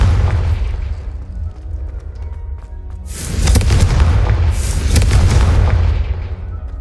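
Confringo fire curse from Hogwarts Legacy erupts in a loud booming blast with a crackling, sustained roar, followed by a second swelling burst, over a low game rumble.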